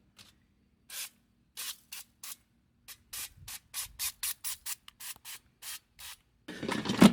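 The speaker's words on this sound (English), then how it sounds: "And you spray some oil in it." Cooking oil sprayed into an air fryer in repeated short hissing sprays, about fifteen quick bursts at an uneven rhythm in a quiet room, ending with a louder rustling clatter.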